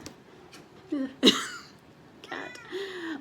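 A cat gives a short meow close by, with a few faint rustles and a soft second cry after it.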